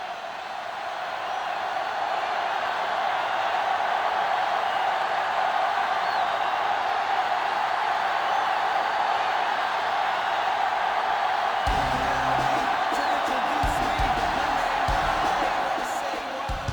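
Loud, steady roar of a Super Bowl stadium crowd in Madden 09, Raiders versus 49ers, sustained without break, with commentary talk over it and a shift in texture near the end.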